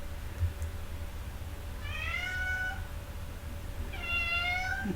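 A domestic cat meows twice, a couple of seconds apart, each call a clear drawn-out whine at moderate volume over a low steady room hum.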